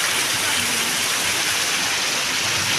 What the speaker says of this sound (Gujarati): સવારથી ધોધમાર વરસાદ છે